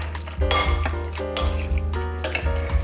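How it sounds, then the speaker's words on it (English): A spoon scrapes and clinks against a pan while mixing seasoning into a hibachi-style dish, with steady loud clattering strokes over a low sizzling hum, close and continuous. "So I just mix it all up, get the seasoning on there"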